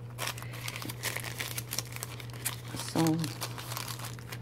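Paper envelopes and loose papers handled at close range give steady crinkling and rustling, with a brief louder crumple near the end, all under someone talking.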